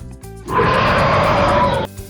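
A lion lets out a single loud, rough roar that holds steady for over a second before cutting off, close and unaccompanied.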